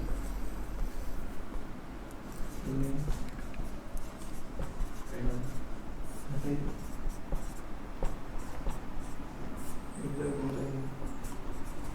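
Steady scratching of a pen writing notes by hand, close and continuous, with someone speaking intermittently over it.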